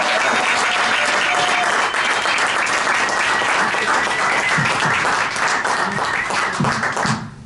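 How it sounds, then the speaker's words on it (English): Loud, sustained applause from an audience at a celebration-of-life gathering greeting comedian Mark Breslin, dense clapping throughout with no talk over it. "Let's have a round of applause for Mr. Mark Breslin, ladies and gentlemen."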